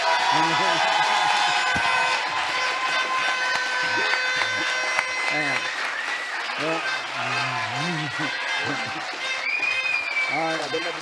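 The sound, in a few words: audience applause and cheering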